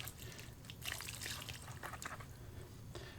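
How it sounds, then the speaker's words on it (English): Water trickles and drips as gloved hands are rinsed beside a worm composting grow bag, a faint, close splashing with uneven little spatters. "I'm also going to rinse off my gloves here."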